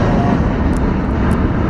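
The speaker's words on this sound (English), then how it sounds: "Oh, it's a UH-1 Huey." A UH-1 Huey helicopter passes overhead with a loud, dense, continuous engine and rotor roar that fills the short stretch without letup.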